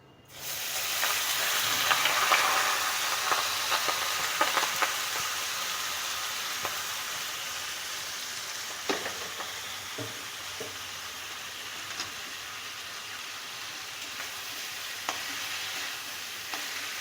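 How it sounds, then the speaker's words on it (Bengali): Rice fries in ghee with cardamom, cinnamon and cloves for a Kashmiri pulao, a continuous close sizzle and hiss with occasional stirring scrapes and clicks throughout. "চালটাকে একটু ভাজা ভাজা করে নিতে হবে"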